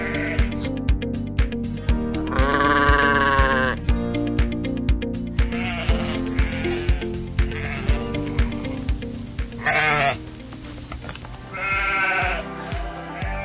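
Sheep on a farm bleat repeatedly in loud, wavering cries, some near and some further off, over a steady rhythmic mechanical thumping and background music.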